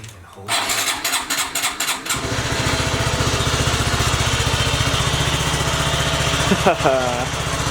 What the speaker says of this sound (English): we're gonna super cold start on the Grom really quick